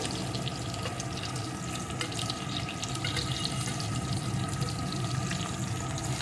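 Chopped onion and garlic frying in a pan, a steady broad hiss of oil with faint crackles running continuously at close range, no talking.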